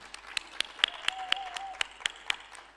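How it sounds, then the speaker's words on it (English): Scattered claps ring out at a conference plenary session, a thin round of applause from a small audience, sharp individual hand claps spaced irregularly rather than a dense roar. "A big round of applause for her."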